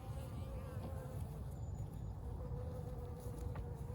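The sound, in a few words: honeybees buzzing in a nuc colony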